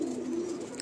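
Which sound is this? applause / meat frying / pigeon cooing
pigeon cooing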